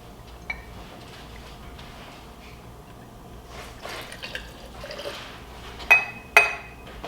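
Red wine vinegar is poured into a measuring cup. A soft, faint trickle builds gradually and is followed by two sharp glassy clinks.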